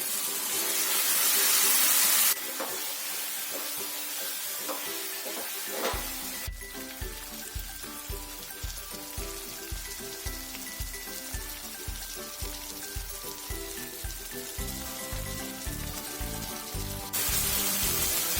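Water poured into a pan of sizzling chicken masala sets off a loud hissing burst of steam and frying, settling into a steady sizzle that holds with bubbling for most of the stretch.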